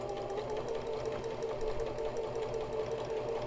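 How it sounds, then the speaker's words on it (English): A sewing machine runs steadily through a short quarter-inch dart seam on a face mask, its fast, even mechanical whir close and continuous with no pauses. "and then I sew maybe just a 1/4 of an inch"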